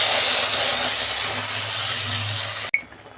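Tomato spice paste with peas hits hot oil in a pan for a cauliflower curry, giving a loud, close, continuous sizzling hiss that cuts off abruptly near the end, followed by faint clinks.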